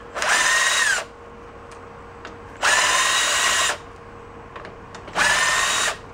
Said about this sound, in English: now let's see if we can buzz them out of there.